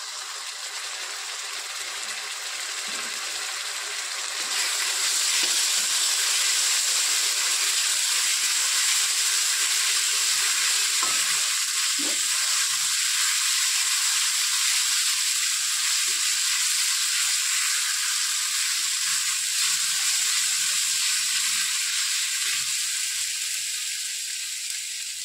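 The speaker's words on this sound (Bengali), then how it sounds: "আদা রসুনটা কষা হয়ে গেছে তেলের উপরে" Ginger garlic paste frying in hot oil gives a steady, hissing sizzle close up. It swells louder after the first few seconds and then holds evenly throughout, with faint scrapes underneath.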